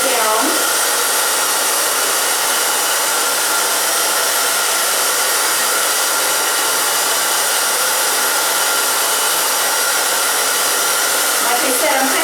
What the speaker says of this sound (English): So I'm just going to blow dry it straight down.